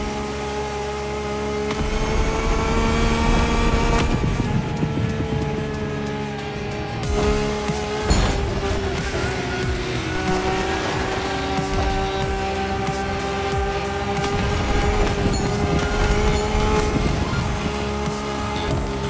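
A Lamborghini races in The Crew Motorfest, its engine roaring loud and continuous with shifting pitch, gear changes and bursts of tire squeal throughout, with no voices over it.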